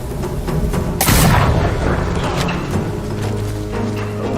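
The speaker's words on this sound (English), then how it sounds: "Thrown weapons like kunai, bombs, or even blinding powder can give Atsu an edge" Thrown bombs burst in the video game Ghost of Yōtei, one loud boom landing over a dense rumble of game sounds and mechanical clatter.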